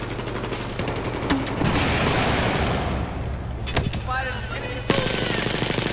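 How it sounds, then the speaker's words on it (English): Battlefield 4 machine gun fire rattles in rapid bursts over a busy battlefield din, loud and close, with a short break in the middle before the firing resumes. "Enemy machine gunners operating north of your location."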